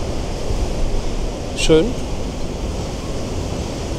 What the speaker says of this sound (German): immer windig hier